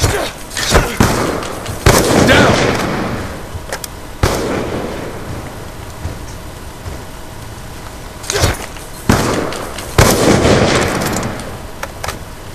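Video game gunfire crackles in sharp bursts and single cracks, loud and close, with dense volleys around the start and again near the end and quieter stretches between.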